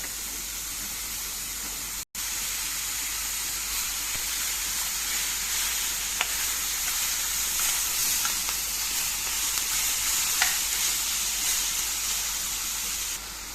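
Chicken breast pieces going into a pan of sautéing bell peppers and vegetables, giving a steady loud sizzle that holds for the whole stretch, broken by one brief dropout and a few faint clicks.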